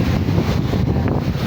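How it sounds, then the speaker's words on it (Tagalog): Strong wind gusting by the sea, a loud, close roar of rushing air buffeting the microphone with steady low rumble, heard alone without talking. "At siguro rinig nyo rin ang lakas ng hangin."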